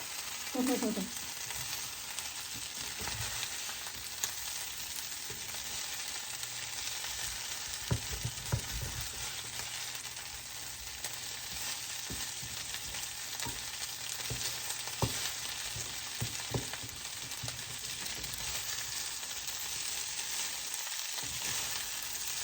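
Okra frying in a hot skillet, a steady broadband sizzle and crackle lasting throughout, with occasional pops and light stirring scrapes; close, fairly even, no voices.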